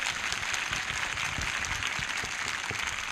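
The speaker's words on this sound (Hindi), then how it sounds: "जिनको लग रहा है जीत रखा है वो ताली बजाकर धन्यवाद कर रहे हैं।" A church congregation at a Palm Sunday meeting claps hands together in thanks, a dense, continuous burst of applause lasting a few seconds without speech over it.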